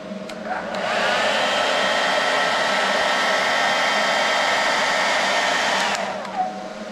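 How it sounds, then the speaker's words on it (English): Hair dryer running on AC power from an OUPES Exodus 1500 portable power station, a loud, steady, close blowing roar that switches on, holds for about five seconds and then cuts off. "Now we'll be able to blow dry her hair."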